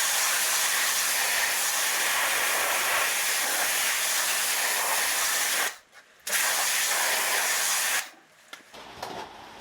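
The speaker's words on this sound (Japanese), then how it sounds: "ちょっとこれ洗い流していきます" A water spray rinses the painted head cover of a Toyota 4A-G engine from an MR2 restoration. It is a loud, steady hiss that cuts out briefly twice and then trails off.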